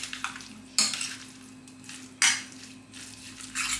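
Bean curd skin and beef being stirred with seasoning in a pan: a spatula scrapes and clatters in several sharp bursts, with a soft sizzle underneath and no voices.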